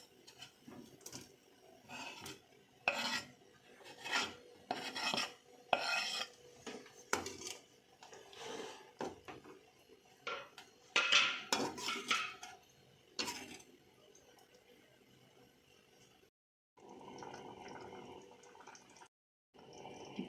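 Paneer being stirred into masala gravy in a pan gives a series of soft, irregular scraping and clinking strokes from a spoon against the pan, faint and close, followed by a quieter steady hiss.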